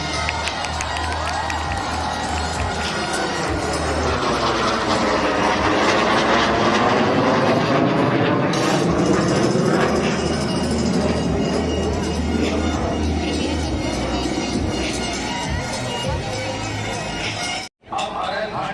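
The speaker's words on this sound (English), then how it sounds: "Flying in the single Jaguar fighter jet" A single Jaguar fighter jet roars low past the crowd at an Air Force Day air show over the Sangam at Prayagraj, a loud, sustained, sweeping jet rush with spectators cheering beneath it.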